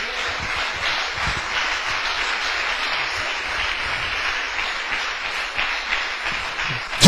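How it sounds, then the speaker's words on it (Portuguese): A church congregation applauds during a sermon, a broad, even roar of clapping from a large crowd at moderate distance that holds steady before a brief louder knock at the end. "dê uma salva de palmas para o Senhor."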